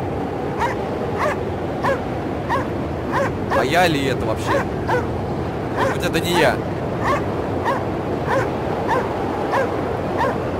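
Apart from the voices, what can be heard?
dog barking in the video game Anabiosis: Sleep of Reason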